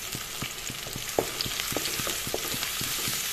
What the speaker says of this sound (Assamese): তেলখিনিত এনেদৰে ভাজি দিলোঁ একেলগে